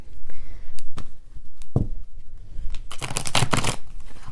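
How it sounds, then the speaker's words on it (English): Cards riffle together in a brisk shuffle, a short crackling burst near the mic, preceded by scattered handling taps. "These are already shuffled, but I like to do a couple on camera."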